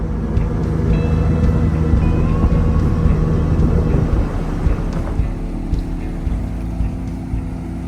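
A fishing motorboat's engine drones loudly and steadily over rushing water and wind, the roar easing slightly toward the end.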